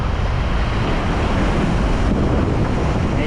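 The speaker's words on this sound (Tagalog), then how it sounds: "Medyo malalaki yung alon eh." Big ocean waves roll in at a shoreline at high tide, a loud, continuous roar of surf with heavy wind buffeting the microphone throughout, and no voices.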